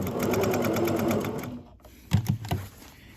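A sewing machine stitches a welt pocket in fabric, running steadily for over a second, then pausing before a few short, uneven bursts of stitching.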